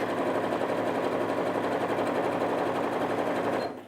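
A Janome 230DC sewing machine runs at top speed, a fast steady mechanical whirr and needle chatter that stops abruptly near the end.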